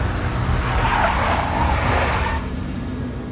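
A big black Mercedes skids in the Max Payne video game, a loud, broad tire-screech swelling over about two seconds and then easing off into a steady engine and road rumble.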